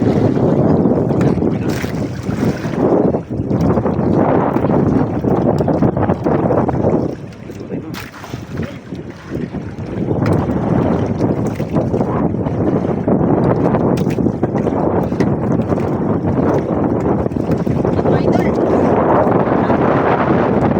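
Strong wind buffets the microphone with a constant roar while waves wash and churn around a boat, loud and unbroken throughout.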